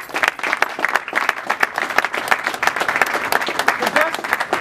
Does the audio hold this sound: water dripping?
no